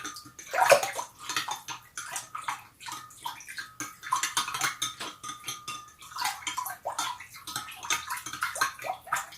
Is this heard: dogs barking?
no